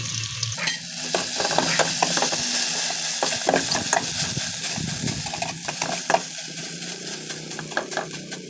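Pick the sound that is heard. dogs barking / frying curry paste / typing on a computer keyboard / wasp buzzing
frying curry paste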